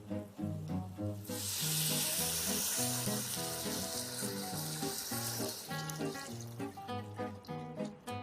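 Vegetable broth, three quarts, poured into a soup pot with sizzling tomato paste and oil, a bright rushing splash that swells in and continues steadily, over background music.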